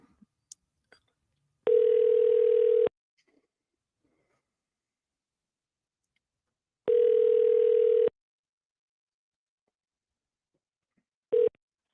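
A telephone line rings while calling a congressional office, with two long steady ring tones about five seconds apart and the start of a third, each lasting about a second, with silence between and no talk.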